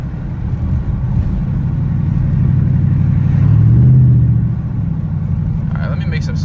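A Dodge Challenger SRT8 with a muffler delete cruising at about 35, giving a deep, steady engine rumble that swells briefly midway, with a voice speaking over it.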